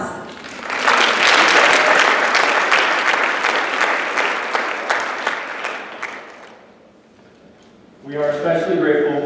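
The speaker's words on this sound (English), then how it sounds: "Please give yourselves a warm round of applause" A conference audience gives a warm round of applause at a social enterprise keynote, dense clapping rising quickly and holding for about six seconds before fading, then a speaker's voice resumes.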